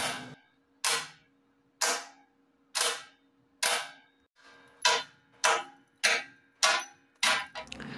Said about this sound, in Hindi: रियल सिल्वर होती है वो कोई भी मेटल पर टकराने पर एक अच्छी और भारी आवाज़ करती है